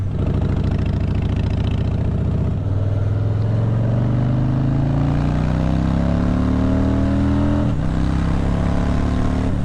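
A 2020 Harley-Davidson Fat Boy motorcycle cruising at motorway speed. Its loud engine drone rises steadily in pitch through the gears, with a brief shift partway through and wind roaring throughout.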